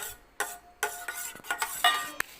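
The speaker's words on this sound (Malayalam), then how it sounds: "നമുക്ക് മിക്സ് ചെയ്തുകൊണ്ടിരിക്കാം." Beaten eggs seasoned with salt and pepper stirred in a bowl, a string of close, light clinks and scrapes of utensil against the dish coming in an uneven rhythm, with no talking.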